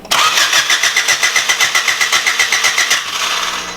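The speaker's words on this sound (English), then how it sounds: "Are you going to try and fire it up?" A turbocharged Honda Civic EG engine cranks with a rapid, even starter rhythm, then catches and settles into a loud, close idle near the end, with no talking.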